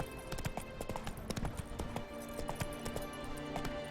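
Roach, the horse in The Witcher 3, galloping with a quick, steady clip-clop of hooves close by, running continuously under faint ambient game sound.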